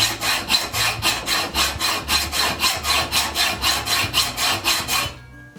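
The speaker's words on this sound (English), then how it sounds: "Because I want to take off as much as I can with a hacksaw." A hand hacksaw cuts through a metal T-nut for a South Bend 9C lathe cross slide in an even, rhythmic rasp of about sixteen close push-pull strokes, ending abruptly in silence.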